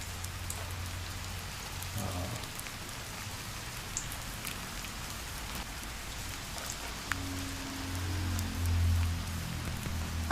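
Heavy monsoon rain pours steadily in Konkan, a dense, even hiss of drops hitting surfaces that holds throughout with a low rumble underneath and a few brief swells.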